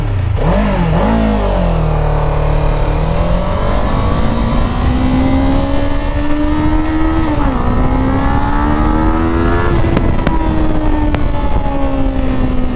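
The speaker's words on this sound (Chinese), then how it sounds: "它前面转速跑得太快了。" A Qjmotor Race 450 motorcycle's engine is revved hard in first gear, loud and close, its pitch rising steadily through long pulls with brief dips at shifts or throttle changes, steady and without talk.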